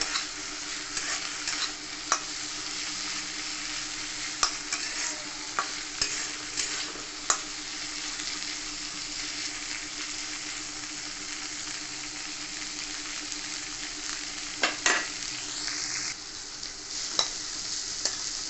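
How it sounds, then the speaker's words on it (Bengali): Boiled chickpeas frying with potatoes in a pan for Bengali chola bhaja: a steady, close sizzle with repeated scraping and clinking of a spatula stirring, no voices. "এবার ছোলাটাকে আমি এই আলুর মধ্যে দিয়ে দেবো ভালো করে ভেজে নেবো"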